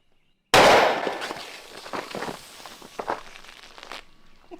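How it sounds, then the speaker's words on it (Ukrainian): A sawed-off shotgun fires a three-inch buckshot shell at soda bottles: one sharp, loud blast from silence, followed by a few clattering impacts and rattling debris that fade out. "Ми будемо стріляти по пляшках з під газованки"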